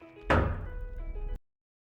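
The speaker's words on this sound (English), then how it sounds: "I'm not going to be answering one loud knock on the door." A loud knock on a door in the 2008 film The Strangers, one heavy hollow thud followed by a short resonant tail and a fainter second tap, then abrupt silence.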